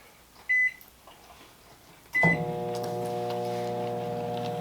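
A microwave oven heats Taco Bell food on a plate: a short beep and a click come first, then the door shuts with a thud and a steady, fairly loud electrical hum runs on, with no talk.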